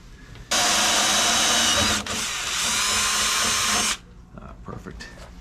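Power drill bores into a Jeep Wrangler door in a loud, steady whine lasting a few seconds, with a brief dip midway, then stops, leaving faint handling noises.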